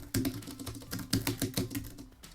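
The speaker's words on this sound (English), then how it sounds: "Let's do a quick typing test." Quick bursts of keystrokes on a Sandberg Bluetooth touchpad keyboard, close and clear, tapping in an irregular rhythm of soft clicks with brief pauses between runs.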